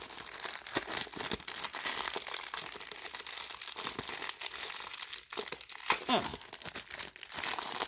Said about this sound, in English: I could show you if I could find where the opening was for this bag.